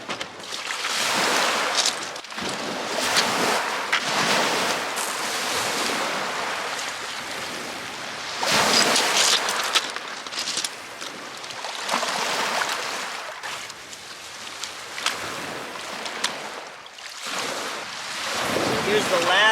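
Gold panning in a plastic tote of water near the North Shore of Lake Superior, with steady sloshing and splashing of water and gravel sweeping back and forth, close and fairly loud, continuous throughout with no voice.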